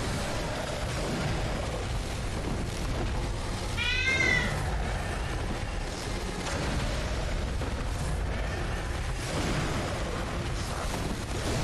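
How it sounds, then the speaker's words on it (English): A cat meows once, a short rising-and-falling call, in the background of loud, continuous Bloodborne game audio with rumbling effects. "so if she starts meowing a lot on the background, I apologize"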